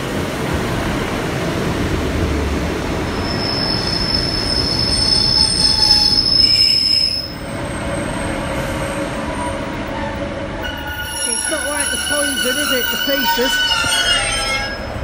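A Class 185 train passes through Deansgate station, its wheels squealing loudly in high sustained tones over a rumbling roll, and the squeal wavers and shifts as it moves through. People talk nearby.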